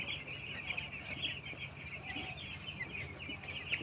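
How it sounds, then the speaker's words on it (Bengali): Five hundred six-day-old broiler chicks on a poultry farm keep up a continuous, shrill chorus of peeping and soft clucking, fairly faint and steady throughout. "আজকে আমার 500 ব্রয়লার মুরগির বয়স হচ্ছে 6 দিন।"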